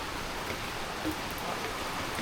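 Steady rain falls outdoors during a storm, a dense, even hiss of drops on surfaces that continues unbroken at moderate loudness. Nobody talks.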